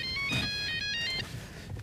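A telephone ringtone plays a short bright electronic melody of repeated chiming notes, loud and close, then cuts off after about a second, leaving low background noise.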